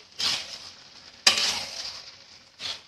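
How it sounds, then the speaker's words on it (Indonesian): Rica-rica meat frying in a pan is stirred with basil leaves, three separate bursts of sizzle and scraping, the middle one starting sharply and fading slowly, with near-silence in between. "Kita aduk"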